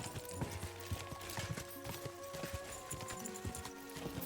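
A horse's hooves clip-clop at a steady trot in the medieval video game Kingdom Come: Deliverance II, quiet rhythmic footfalls over a faint musical background.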